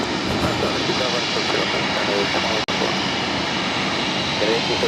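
A jet airliner takes off from runway 25 right at LAX, its engines a loud, steady broadband roar that holds throughout, with a brief dropout midway and faint radio voices underneath.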